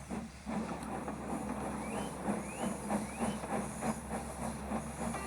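Duke, a steam engine from the animated Thomas and Friends, puffs away with a steady hiss of steam over a low rumble, broken by soft rhythmic chuffs. No one speaks.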